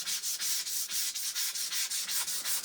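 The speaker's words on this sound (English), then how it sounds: "I'm going to go ahead and just take a sandpaper block. This is 400 grit" Fine 400-grit sandpaper on a sanding block rubs over a surface, with about a dozen quick, even back-and-forth strokes in a steady rhythm, close and fairly loud, with no voices.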